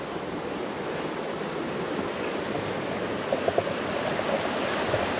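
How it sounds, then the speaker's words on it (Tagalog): The Sheep River rushes near its falls in Kananaskis Country wilderness, a steady, dense wash of flowing water that fills the whole stretch, broken only by a few faint clicks. "Oh, yan ang ilog."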